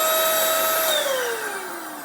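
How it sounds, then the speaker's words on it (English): A cheap Dirt Devil handheld vacuum cleaner runs with a steady high whine that drops in pitch as the motor winds down, loud and close with no talking. "that is just vacuum cleaner."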